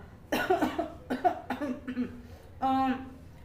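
A run of several close coughs in quick succession, ending with a longer, harsher throat sound.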